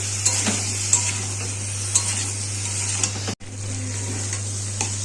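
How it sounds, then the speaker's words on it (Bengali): Salted potatoes and cauliflower fry in a pan with a steady close sizzle over a low hum, punctuated by regular light stirring clicks and one brief dropout. "নুন আলু আর ফুলকপিটাকে আর একটু ভেজে নেব।"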